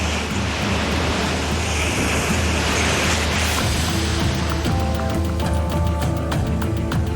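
Ocean surf breaking continuously at Bondi Beach, a loud, steady wash of waves with wind buffeting the microphone, swelling and rolling throughout with no voices.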